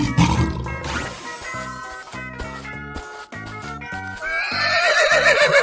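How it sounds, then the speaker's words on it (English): A horse neighs and whinnies loudly and close in a cartoonish 3D animal sliding game, with music-like tones and a faint clip-clop sound mixed in, no one talking. "Horse."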